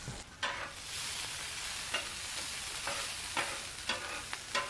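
Onions sizzling in olive oil on a Royal Gourmet griddle, a steady hiss broken by several crisp spatula scrapes and taps at irregular intervals, close and fairly quiet.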